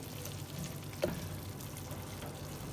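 Beef for haleem fries in a pot over a low flame, stirred steadily; a soft, continuous sizzle with one brief clink of the spoon, fairly faint.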